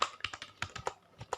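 A quick run of distinct key clicks on a computer keyboard, close and fairly quiet, roughly ten taps in uneven rhythm as a laptop product name is typed, with no talking.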